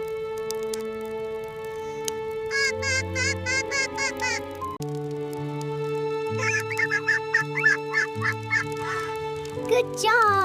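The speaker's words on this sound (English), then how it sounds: "Excited quacks." A cartoon duckling lets out excited quacks in bursts of quick, nasal calls, set against a steady, tonal musical backing with pauses between the runs.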